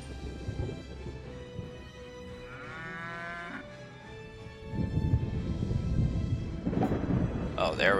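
Cows moo loudly and repeatedly in the video game Rock of Ages 2, with drawn-out bellowing calls over rumbling, thunder-like game noise; a voice briefly joins near the end.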